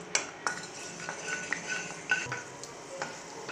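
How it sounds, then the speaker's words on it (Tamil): Cashews roasting in hot ghee in a kadai for samba wheat rava kesari, with a gentle sizzle and light clinks and scrapes of a metal spoon against the pan at irregular intervals, close and fairly quiet. "நெய் காஞ்சிருச்சுங்க, முந்திரியை வறுத்து எடுத்துக்கலாங்க."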